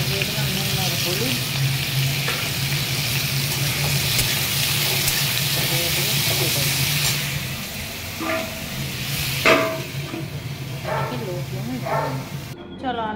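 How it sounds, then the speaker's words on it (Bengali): Potatoes and eggplant fry in a pan of oil and seasoning with a steady, close sizzle throughout, later joined by a few clinks and stirring sounds. "তো এই দেখো আলুটা ভেজে নিচ্ছে এখনই"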